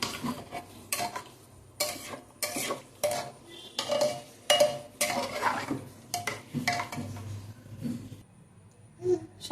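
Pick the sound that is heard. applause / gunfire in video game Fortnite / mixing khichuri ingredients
mixing khichuri ingredients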